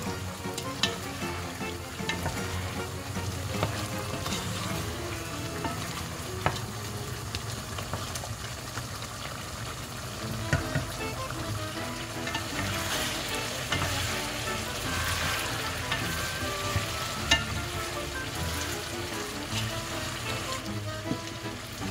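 Chicken adobo frying in a pan with oyster sauce and a little sugar, a steady close sizzle with scraping stirring strokes and light clinks throughout, no talking.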